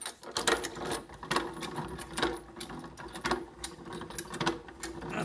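A homemade lift raises an old drill press table with a steady mechanical whir and a rhythmic ticking, cranking sound that repeats about once a second, close and fairly quiet. No speech is heard.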